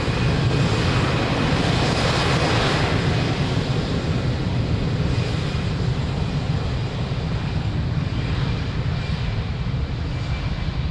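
An airplane takes off from runway 02 at Lisbon Airport, its jet engines giving a loud, steady roar with low rumble that holds throughout, heard from a distance with no speech.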